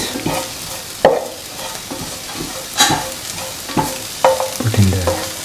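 Lemon chickpea rice being stirred in a frying pan, a spoon scraping and knocking against the pan in irregular strokes over a steady soft sizzle, with a heavier clatter near the end.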